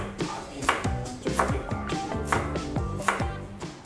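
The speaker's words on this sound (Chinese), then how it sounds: "斬隻雞先，雞頭、雞頸係唔要嘅" A cleaver chops through a whole chicken on a board, for a Thai coconut chicken pot, with a steady run of close, loud whacks, each leaving a brief ringing tone.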